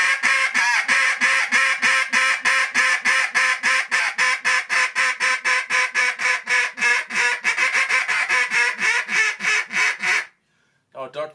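A duck call blown by a person to imitate a duck, a fast, loud, unbroken run of evenly spaced nasal quacks lasting about ten seconds before stopping abruptly, with a brief breathy sound after.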